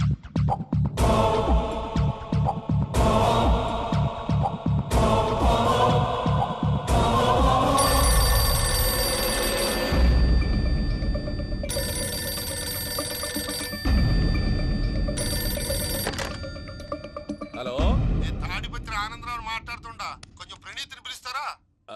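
A telephone rings again and again in a Telugu film comedy scene, the rings mixed with background music and people talking.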